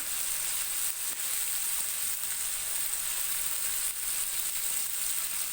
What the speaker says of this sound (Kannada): ನಾನು ಫಿಶ್ ತವ ಫ್ರೈ ಮಾಡ್ತಾ ಇರೋದು